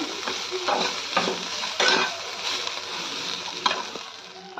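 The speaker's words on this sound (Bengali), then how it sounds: "আর এই যে উচ্ছে আলুতে ভাজলাম" Bitter gourd and potato frying in a pan, a steady close sizzle with soft stirring scrapes recurring every second or so, no voices over it.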